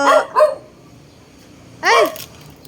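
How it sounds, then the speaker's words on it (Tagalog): A dog barks close by and loud: two quick yips, a pause, then a longer, higher bark. "May aso! Natakot ako, baka kagatin ako ng aso."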